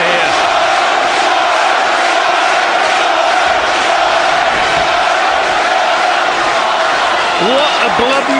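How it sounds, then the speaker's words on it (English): A packed Norwich boxing crowd roars through a live bout featuring Jon Thaxton, a loud, continuous wall of chanting and cheering, with a commentator's voice over it. "Jono, Jono is the chant of the Norwich crowd"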